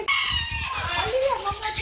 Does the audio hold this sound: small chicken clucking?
yes